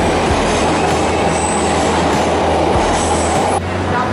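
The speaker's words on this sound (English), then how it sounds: "We're on the train." A train rolls loudly along the rails with a steady rumble, wheel squeal and clatter, heard from on board, no voices, ending with a brief drop in noise.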